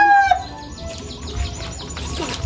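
Chickens cluck and a rooster crows in a rural outdoor setting, a clear crow at the start followed by scattered clucks and chirps at moderate distance.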